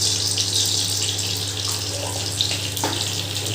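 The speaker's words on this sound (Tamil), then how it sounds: "கடுகு நல்லா பொரிஞ்சு வர வரைக்கும் வெயிட் பண்ணணும்." Mustard seeds fry in hot oil in a pan while rasam is being cooked, making a steady, bright sizzle close up with a few scattered pops toward the end.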